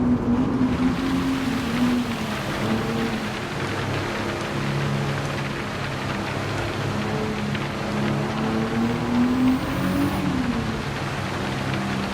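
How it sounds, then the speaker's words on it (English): Nissan road car converted to race spec in Gran Turismo 7, engine droning steadily with a rising and falling tone as it shifts, joined by a constant broadband road and wind rush. "This is a proper race car."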